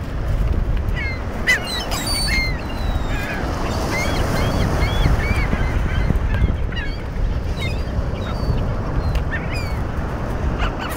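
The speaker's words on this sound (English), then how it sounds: "Just me and the seagulls." Seagulls call repeatedly by the sea, their sharp cries scattered across a constant roar of wind and surf close by.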